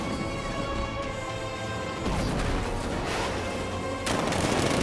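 The Batmobile's millimeter cannon firing in the video game Batman Arkham Knight: loud, dense volleys of heavy blasts and crashes that roll on continuously, with a sharper surge partway through and another near the end.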